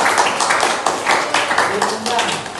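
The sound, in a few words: classroom applause, students clapping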